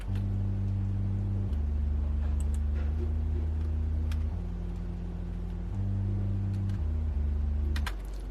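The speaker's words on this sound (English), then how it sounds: "So the bass sounds like this." A deep synth bass line plays alone, stepping between a few sustained low notes in a simple repeating pattern.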